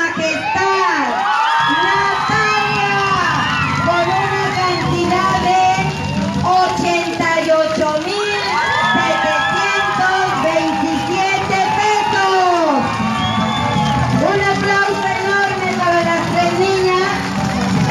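A festival crowd at a queen pageant for the Divina Providencia celebration cheers and whoops over loud music, with excited voices and children shouting in a dense, lively din that carries on throughout.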